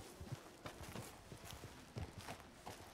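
Horse hooves clip-clopping in Red Dead Redemption 2, a steady walking rhythm of soft thuds heard near but fairly quiet over faint ambient background.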